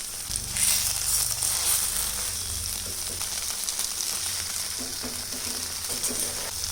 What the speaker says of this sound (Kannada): ಇದು ಬೇಗನೆ ಫ್ರೈ ಆಗುತ್ತೆ. ಆದ್ದರಿಂದ ಇದನ್ನು ಈ ರೀತಿ ರಿವರ್ಸ್ ಮಾಡಿ ಮತ್ತೆ ಬೇಯಿಸ್ತಾ ಇದ್ದೀನಿ